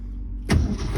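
An old 1968 Ford F250 truck fitted with a dually rear end cranks and fires up halfway through, its engine catching abruptly and running on loudly and close by.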